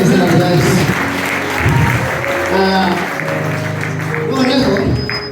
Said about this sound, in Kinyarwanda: Reka dukomere abanazira amashyi menshi mu izina rya Yesu.